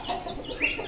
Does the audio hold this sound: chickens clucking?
yes